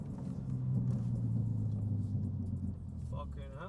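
Cars pulling up at a roadside spot, a deep engine rumble droning steadily close by, low and sustained, with a voice briefly heard near the end.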